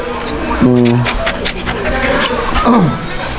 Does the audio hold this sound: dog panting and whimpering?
yes